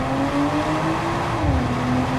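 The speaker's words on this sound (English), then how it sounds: "Launch control active, lift off the brake." A 2025 BMW M440i with all-wheel drive launching under launch control in Sport mode, its engine holding a loud steady drone with a rising tone as it pulls hard, heard close and continuous with no talking.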